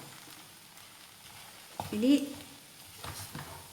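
Raw banana (ethakka) thoran being stirred in a hot pan gives a steady sizzle with a brief scraping stir in the middle; a voice speaks briefly.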